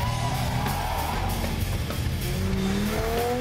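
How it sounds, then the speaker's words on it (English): A 4WD vehicle spins its wheels while climbing through an off-road tyre course, its engine roaring loud and steady throughout, with a rising whine near the end. "Warning there for excessive wheel spin."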